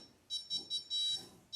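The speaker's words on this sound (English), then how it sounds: "you notice it is beeping when I lift it up" Instant Pot beeping as its inner pot is lifted out while cooking scalloped potatoes: a quick run of four or five shrill, bright electronic beeps in uneven bursts, near and fairly clear, with no voices.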